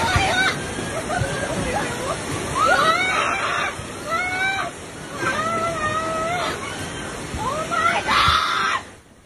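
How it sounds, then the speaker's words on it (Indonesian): Flash floodwater nearly 3 meters high rushes through the center of Sukabumi, a steady loud wash of surging water under repeated frantic screaming and shouting from residents. "warga histeris melihat derasnya air banjir menerjang dan menghanyutkan teman mereka"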